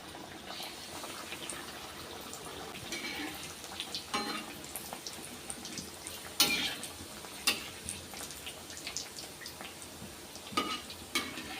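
Taco shells fry in hot oil in a pan, giving a soft, steady bubbling sizzle with scattered small pops and clicks, fairly quiet and close, with no talking over it.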